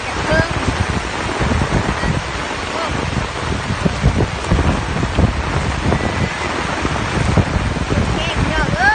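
Heavy rain and gusting wind of a storm sweeping a rural village, a dense steady roar with rattling bursts throughout, loud and close, with faint voices buried beneath.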